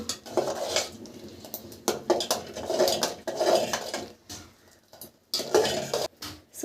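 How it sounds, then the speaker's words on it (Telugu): Milk being stirred into payasam in a pot, with a steady run of scraping and clinking from a spoon against the metal, loud and close, pausing briefly before resuming. "పాలు పోసేసుకొని కొంచెం బాగా కలుపుకోవాలండి"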